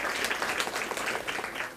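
Audience applause welcoming guests at a Rotary Club cervical cancer vaccination camp at a nursing home in Moga, a dense, steady patter of many hands clapping throughout, fairly close and even in level.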